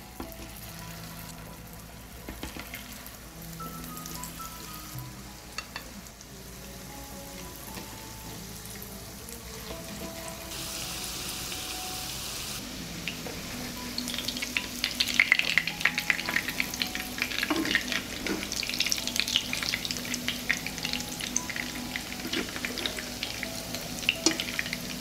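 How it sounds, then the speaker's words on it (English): Burger patties frying in heated oil in a pan, a soft crackle that grows into a busier, louder spitting sizzle with scattered pops, no talk. "I put the burgers on the heated oil and fry them for 3 minutes on both sides"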